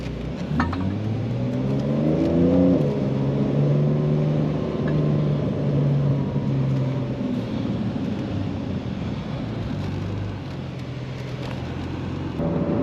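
A 2020 Porsche 911 Carrera S engine revs up through rising tones, then settles into a steady, throaty cruise on the Las Vegas Strip, loud and close throughout.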